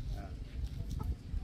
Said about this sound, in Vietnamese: Ô gà đẹp nhỉ. Gà đẹp lắm.